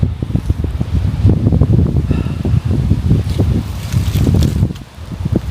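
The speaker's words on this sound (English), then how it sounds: "And especially with the wind as well." Wind blows by an old bridge over the River Don, heavy gusty buffeting and rumbling on the microphone, loud and continuous throughout.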